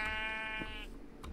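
A sheep in the Minecraft video game gives one drawn-out, wavering bleat, fairly clear over a low background hum, followed by faint game noise.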